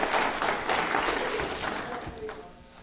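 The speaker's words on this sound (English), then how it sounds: "So how about a hand of applause for Marcia?" Applause from an audience at a town meeting, a broad wash of clapping that stays fairly steady and fades slightly, with voices mixed in.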